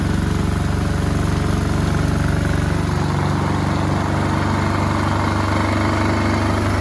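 A homemade Liberty Engine Project motor runs flat out while vibrating and flapping against a tabletop, a loud, dense, continuous mechanical drone whose low rumble deepens partway through.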